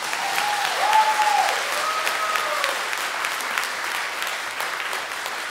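A comedy show audience claps loudly and steadily for several seconds, a dense, sustained round of applause.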